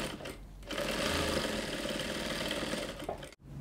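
A sewing machine stitches bias binding onto a dress neckline, its close, steady rapid whirring running for about three seconds before stopping abruptly.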